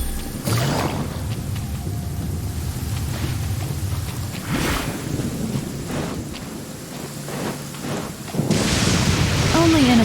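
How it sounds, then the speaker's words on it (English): Rain and rolling thunder fill a Genshin Impact game scene, with steady rainfall and wind, deep rumbling bursts, and a loud crack near the end, while a character's voice is heard partway through. "Only innocent children and timid adults are scared of thunder."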